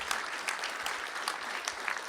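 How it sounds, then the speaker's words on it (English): Audience members at a school board of trustees meeting give a steady round of clapping, moderately distant and even, with no voices over it. "Let's give Lyle a great round of applause as well."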